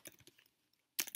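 Typing on a computer keyboard into a web browser: a quick run of soft key clicks, a short pause, then a louder burst of keystrokes, close and quiet.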